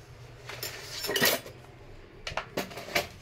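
Metal spoons dropped into empty reused cooking-oil tins in a home kitchen, a few sharp clinks and clatters, one busier burst then several separate knocks, close and fairly soft, with no talking.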